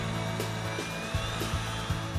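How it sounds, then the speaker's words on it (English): A power drill with a 13/64 bit bores mounting holes for a door operator, a steady whirring motor with a repeated rhythmic pulsing of the bit biting in, close and alone. "Next, drill with a 13/64 or number 7 drill bit"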